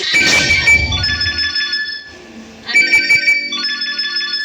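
A phone rings with an incoming call, two melodic bursts of an electronic ringtone separated by a short gap, loud and close, with a brief clatter at the start.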